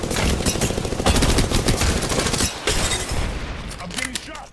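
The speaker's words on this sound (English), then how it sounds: "I'm getting shot." Rapid automatic gunfire in the video game Apex Legends, loud and dense bursts of shots with booms, continuing almost without pause and fading slightly toward the end.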